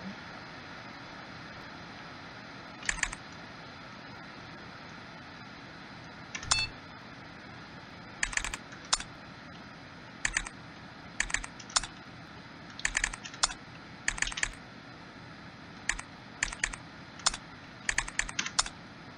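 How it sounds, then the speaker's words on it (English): Bursts of keystrokes on a computer keyboard come in irregular clusters, some short flurries and single taps, fairly close over a quiet steady background hum with no talking. "There's probably going to be a lot of typing going on."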